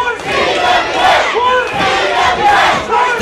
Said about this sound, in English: Crowd getting anxious for the action of this hardcore bout.